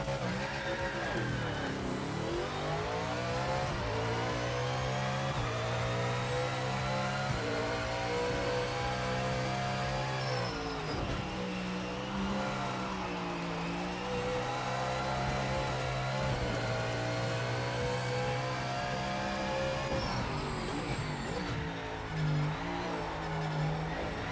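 Mustang race car in a racing sim game, the engine revving and shifting continuously with rising and falling pitch sweeps, loud and close, with occasional tire noise.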